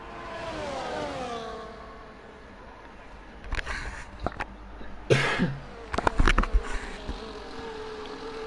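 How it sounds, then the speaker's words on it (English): A few sharp, close coughs break out in quick bursts after a stretch of faint buzzing background noise. "Apologies for the cough."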